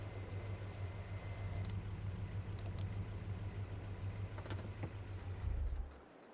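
A UAZ 3150 driving in GTA IV, a steady low engine drone with a few faint clicks on top, holding even before cutting out abruptly near the end.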